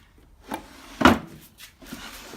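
A workbench drawer in a home shop slides and thumps once with a solid wooden knock, with lighter rubbing scrapes before and after, close and alone with no talk.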